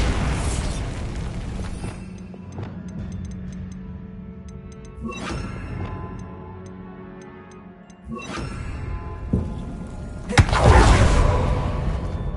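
Bombarda spell explosions in Hogwarts Legacy burst out as several booming blasts over a steady game background, the loudest and heaviest one arriving near the end.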